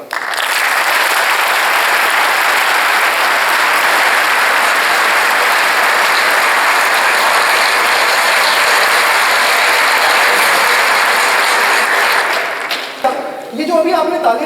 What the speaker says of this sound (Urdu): یہ جو ابھی آپ نے تالیاں بجائی نا